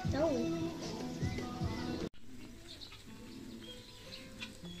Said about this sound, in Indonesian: Ni pun merpati raja